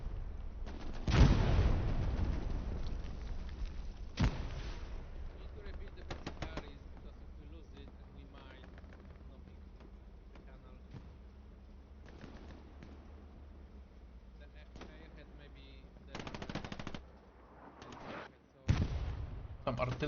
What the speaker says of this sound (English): Some artillery shots going down.